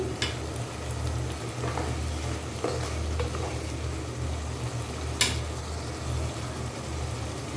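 Potatoes cooking in a covered pan with a little oil give a steady low sizzle, with a few sharp clicks and stirring knocks, close and moderately quiet, without voices.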